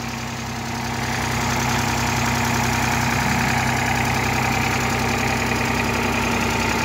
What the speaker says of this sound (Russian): Двигатель работает мягко.